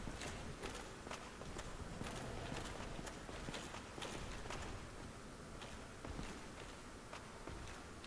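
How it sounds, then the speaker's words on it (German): Footsteps of another character echo through castle halls in Dark Souls, a steady run of sharp, clacking steps with a regular rhythm at moderate distance over a continuous background. "Ich höre Schritte."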